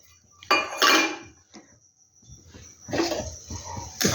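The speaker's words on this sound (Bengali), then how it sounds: "নুনটা একটু নেড়ে নিচ্ছি।" A spoon stirs salt into water in a cooking pot, for a winter pithe recipe, producing a few close scraping and clinking bursts with quiet pauses between them.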